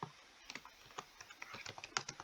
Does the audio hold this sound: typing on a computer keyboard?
yes